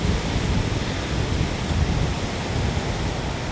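Steady wind rushes across a foggy hilltop at Nandi Hills in light drizzle, a continuous broadband roar with no gusty breaks, close and fairly loud, with no voices.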